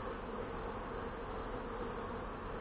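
Bees hum in a steady, dense buzz from hives being moved to wintering grounds in Krasnodar Krai, a continuous, fairly loud drone with no pauses and no talking.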